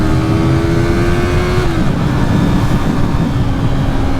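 A Yamaha MT03 motorcycle engine howls at full throttle, loud and close, with a steady high engine tone that drops sharply partway through as revs fall, then a rough continuous roar.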